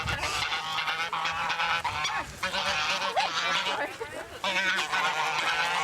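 A group of geese honking repeatedly nearby, loud overlapping calls in uneven bursts with a constant low hum underneath.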